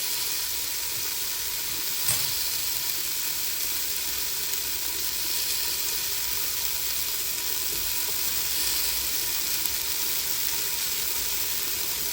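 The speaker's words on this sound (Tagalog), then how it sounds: "lagyan na natin ng sabaw" A steady, loud sizzle and hiss from a hot pan of mussels as broth goes in, continuous and close, with one brief knock near the start.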